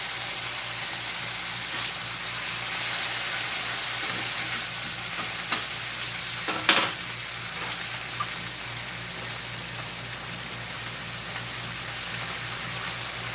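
Chopped frozen onion sautéing in a pan, giving a loud, continuous hiss and sizzle with a few faint clicks of stirring, without any voices.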